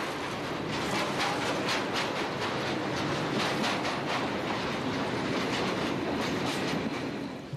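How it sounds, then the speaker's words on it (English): A Class 2200 diesel-electric locomotive hauls a rake of chemical tank wagons toward Sas van Gent from sidings at Terneuzen. The steady rumble is loud and sustained, with rhythmic clickety-clack from the wheels over the rail joints. "This Class 2200 diesel electric is arriving at Sas van Gent with a rake of chemical tanks"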